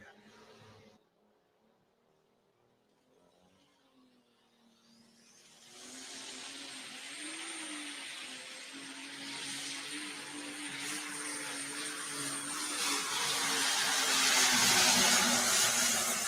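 A big diesel John Deere pulling tractor making its run at the Iowa State Fair, its engine note rising from near silence into a loud, sustained, swelling roar that grows steadily closer and heavier through the pull.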